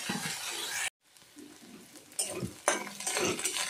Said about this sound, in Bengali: শাক ভাজাটা হয়ে গেছে